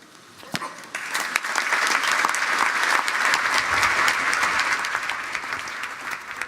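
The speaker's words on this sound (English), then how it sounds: "Those members listening in the room rising to their feet to applaud her." Guests at London's historic Guildhall break into applause after a prime minister's speech on globalisation, clapping starting sparsely then swelling into sustained, dense applause from a large room.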